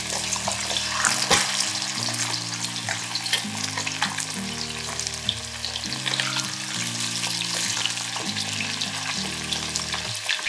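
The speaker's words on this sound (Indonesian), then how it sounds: "Dalam minyak yang sama, goreng ayam yang kita gaul dengan garam dan kunyit tadi." Chicken pieces seasoned with salt and turmeric fry in hot oil in a wok, crackling and sizzling continuously and close up, with a steady busy texture and no talking.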